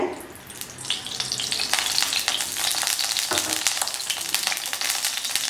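Oil heating and frying in a pan for green gram gravy, a loud, steady crackling sizzle with dense popping that builds after the first second and keeps going, close and alone.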